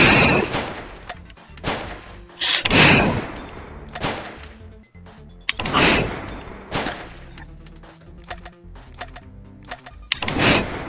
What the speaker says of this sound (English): This weapon fires 4 shots.